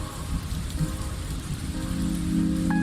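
Steady rain falls at night, a dense, continuous patter close by with low rumbling beneath, and no voices.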